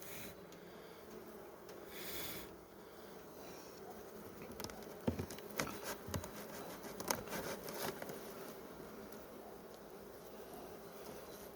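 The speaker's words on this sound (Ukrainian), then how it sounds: "якщо злетіло дві чи три бджоли" Honeybees hum faintly during a February inspection of experimental hive colonies, a low continuous buzz with scattered rubbing and tapping sounds from handling the hive.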